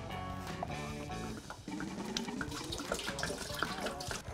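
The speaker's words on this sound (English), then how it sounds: "The best way is just to get a couple gallons of water in there and get it going." Tap water running into a stock pot for home brewing beer, a steady close rushing stream whose pitch rises as the pot fills, with a voice speaking over the start.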